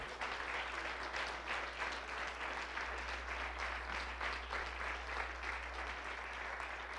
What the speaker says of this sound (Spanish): un aplauso al Señor Jesucristo